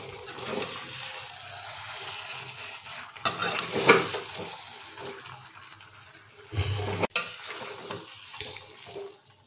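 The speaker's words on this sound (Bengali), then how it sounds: "এখন এটাকে আমরা হাতা দিয়ে মিনিট 2 ধরে লো ফ্লেমে কষাতে থাকবো।" A ladle stirs fried potatoes, jackfruit and peas in a vegetarian dish over a low flame. Gentle sizzling runs throughout, broken by a few louder scraping strokes and a sharp clatter against the pan.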